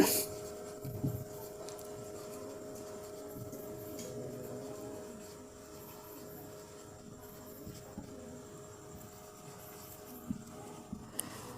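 Pen or pencil scratches on paper while a subtraction sum is written out by hand, quiet intermittent strokes against a faint room hum.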